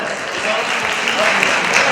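Warm applause from a gathering at the Anping Kaitai Tianhou Temple in Tainan, a short dense burst of clapping at steady loudness with a few voices underneath.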